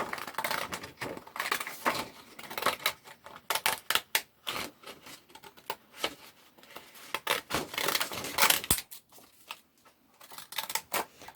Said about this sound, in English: Now I'm going to cut it out with these scissors which have a kind of a crimped edge.